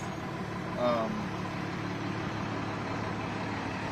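A truck passes and turns around on a road during a sheriff's deputies' standoff with a barricaded suspect, its engine a steady low rumble throughout that swells briefly near the start, with someone talking over it.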